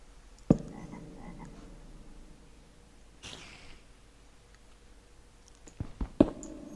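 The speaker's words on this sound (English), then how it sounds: "I'm hearing a frog croak" Frog croaking in a Minecraft-style industrial village game, a brief croak near the start and a few more near the end, fairly faint against a quiet, dark ambient background with no talk.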